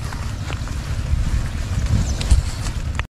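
Wind at sea buffeting the microphone aboard a small fishing boat, a loud continuous rushing roar with gusts and some water slapping, ending abruptly.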